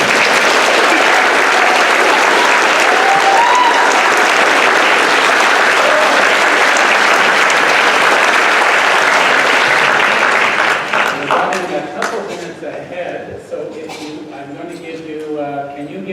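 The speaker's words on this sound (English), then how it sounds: "So I'll invite you to applaud them halfway" An audience at a meeting applauds loudly and steadily for about ten seconds, then the clapping thins out and a voice begins talking as it fades.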